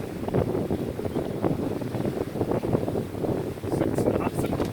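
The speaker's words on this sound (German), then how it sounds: "Der Wind hat aufgefrischt." Fresh wind of about 15 to 18 knots blows across a sailing boat at sea, a steady roaring buffet against the microphone with voices mixed in.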